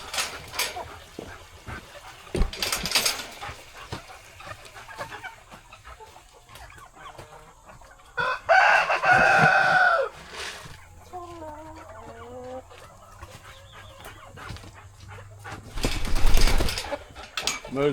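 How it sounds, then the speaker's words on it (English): Homestead chickens cluck on and off around feeding time, with a louder burst of fowl calls partway through and some brief noises and low background sounds between the calls. "this is all chicken"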